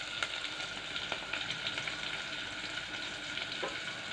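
Garlic cloves tossed into a pan of sautéed onions for a Marathi vegetable dish give a steady, close sizzle with faint stirring scrapes and a few brief clicks, with no talk over it.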